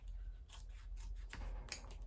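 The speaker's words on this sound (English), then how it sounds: "these are like the sharpest scissors that I have in here right now" Sharp sewing scissors snip through fabric for a crossbody clutch, a series of close, crisp blade closes with soft rubbing and sliding between cuts, ending in a sharper snap near the end.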